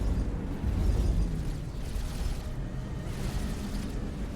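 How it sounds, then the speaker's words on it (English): Heavy explosion in a video game, a deep rumbling boom that swells and then rolls on as a low, sustained roar, fairly quiet overall with no talking. "Explosion imminent."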